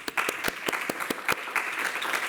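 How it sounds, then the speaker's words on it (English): Forum audience applause, a short burst of clapping from a modest crowd with some sharper individual claps standing out near the microphone. "Can we give them a round of applause, please?"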